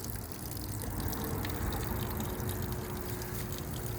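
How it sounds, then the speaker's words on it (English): Small waterfall beside an autumn pond in Baltimore, a steady close rush of falling water that stays even and unbroken throughout, with no voices. "on this side of the rock is a waterfall."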